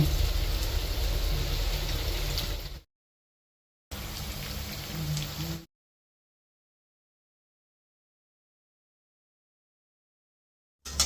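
Peanuts crackling as they fry in hot oil alongside vadai, a dense rain-like patter of tiny pops heard in two loud bursts separated by silence, with a brief return at the end.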